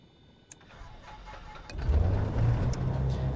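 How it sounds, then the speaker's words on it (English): A light general-aviation aircraft's engine is cranked from the start button. After an early click it catches near the two-second mark and settles into a loud, close, steady low rumble. "you should also be able to hear the engine sound when it starts"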